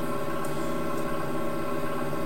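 Scanner audio from the control channel of a Montreal radio network site, a steady buzzing digital data tone with dense harmonic hum, constant and unvarying throughout.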